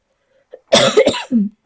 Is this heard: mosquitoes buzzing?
no